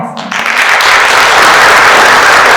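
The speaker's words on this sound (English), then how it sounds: "One more round of applause." Dense, loud applause from an audience at a school spelling bee, rising quickly after a brief quiet start and holding steady as a close, continuous wash of clapping.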